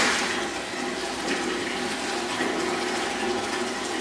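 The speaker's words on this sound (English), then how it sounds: "Watch as we pour the same amount of water through this panda skin." Water poured through a panda-patterned cloth skin gives a steady, close rushing splash that holds at an even level for about four seconds with no talking.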